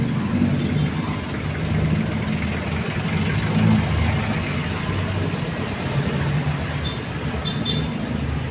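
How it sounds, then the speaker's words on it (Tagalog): Vehicle engines idling in street traffic, a steady low rumble of motors with a constant roadside hum and no clear talk. "Ayan po yung tunog ng mga sasakyan."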